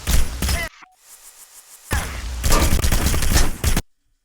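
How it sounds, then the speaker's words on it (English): Guards open fire in Hitman: Blood Money, two loud bursts of rapid gunfire separated by a short quiet gap, each clattering for a second or more with sharp, dense shots. "They're gonna shoot us here."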